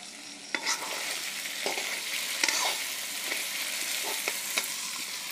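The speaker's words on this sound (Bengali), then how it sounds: "মাংসটা কষিয়ে নিচ্ছি।" Meat being sautéed over very high heat in a pan on a home stove gives a steady loud sizzle broken by repeated scrapes and clinks of a stirring spoon, with no talking.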